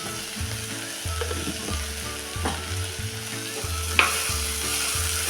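Ground roasted peanut powder sizzling in hot oil for a traditional homestyle flat bean curry, stirred with a repeating rhythmic scrape and click over a steady frying hiss, plus one sharp metallic tap near the end.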